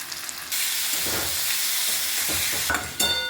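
Ground ginger, garlic and turmeric masala fry in a pan for chicken kosha, giving a steady close sizzle and hiss with occasional stirring scrapes.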